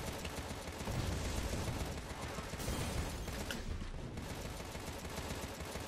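Dense, continuous gunfire from the dual-stick shooter Contra: Rogue Corps on Nintendo Switch, a steady wall of rapid shots and explosions that stays loud throughout with barely any letup.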